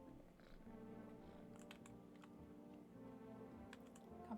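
A cat in a video game purrs as it is petted, a faint, steady, low rumbling purr that continues throughout with no talking.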